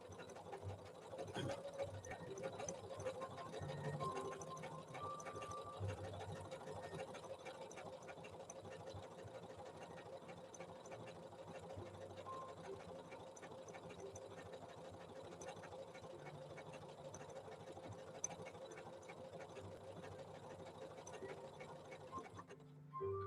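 A Janome Memory Craft 7700 QCP sewing machine stitches steadily at close range, a soft continuous mechanical whir with fine rapid ticking, quiet and unbroken with no talking.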